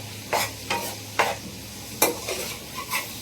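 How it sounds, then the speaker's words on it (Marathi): Tomatoes frying in a pan are stirred with a spoon, giving about seven short scraping strokes in a loose rhythm over a soft, steady sizzle, close and moderately loud with no talking. "तर गाईस मी याच्यात टमाटर टाकलेले बघू शकता. मस्त मिक्स करून घेऊ."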